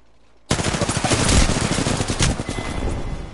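Heavy automatic gunfire in the battle royale game Apex Legends bursts in suddenly after a brief quiet, a loud, dense stream of rapid shots and impacts that continues steadily to the end.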